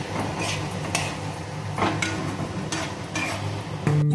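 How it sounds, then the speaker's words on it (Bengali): Yogurt whisked with spice paste is stirred in a cooking pot for papaya malaikari, giving close scraping and knocking of a utensil against metal over a low simmering hiss, with a clatter at the end. "দিয়ে আমি একটু নাড়বো"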